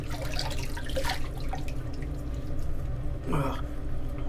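Water runs steadily from a tap as a shaving brush is wetted at the sink, with a few small splashes and drips, close and fairly quiet, while someone talks over it.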